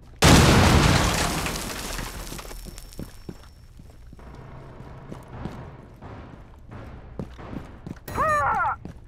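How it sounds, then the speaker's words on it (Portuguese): A detonated breaching charge in the mobile shooter Rainbow Six Mobile goes off with a loud, close blast that slowly dies away, then come scattered footsteps and small impacts, and a brief electronic chirp near the end. "Carga pronta para detonar."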